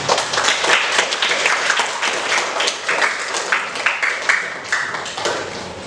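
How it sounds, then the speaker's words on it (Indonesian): Students in a classroom applaud a group coming forward to present, a dense run of clapping from many hands that holds steady for about six seconds with no talking over it. "Silakan yang lain kasih tepuk tangan."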